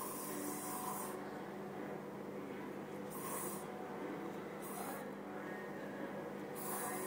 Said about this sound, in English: Okay, I'm gonna spray a little bit.